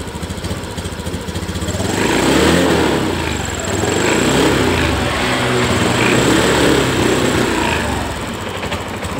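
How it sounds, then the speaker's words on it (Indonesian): A Honda Beat ESP scooter engine with a fault runs rough and sputters without revving, a loud, close, uneven buzzing idle that surges slightly and stumbles, with no speech. "Masih berebet, nggak mau digas."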